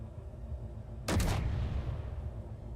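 An assault cannon turret fires in the video game Space Engineers, giving a single sharp, loud blast that decays over roughly a second against a quiet, low hum.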